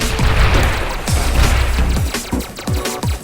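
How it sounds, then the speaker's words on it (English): A local co-op shoot-'em-up throws out dense bursts of explosions and destruction, with booming blasts and rapid crashing hits piling up in quick succession, loud and busy. "Explosions and destruction aren't bad either"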